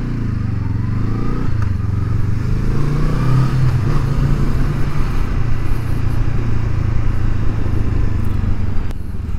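A 2023 Honda CL500 Scrambler twin-cylinder motorcycle pulls away under acceleration, the engine note rising and shifting through gears loudly and close, with steady wind and road roar throughout.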